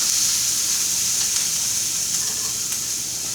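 Garlic in melted butter in a pan sizzles as a steady, close, bright frying hiss with a few faint crackles, heard alone with no talking.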